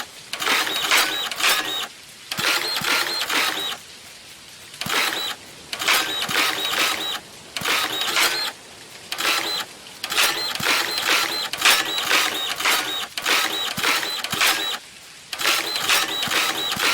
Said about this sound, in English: I'm going to be frantically just printing away here before we start running out of stamina